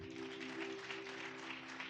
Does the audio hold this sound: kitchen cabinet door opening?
no